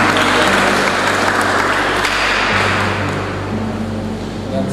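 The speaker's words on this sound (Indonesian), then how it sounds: "Mari kita tepuk tangan untuk kedua" A crowd applauding the bride and groom at a Catholic church wedding in Manado, a loud, dense, continuous wash of clapping with a low steady hum beneath it.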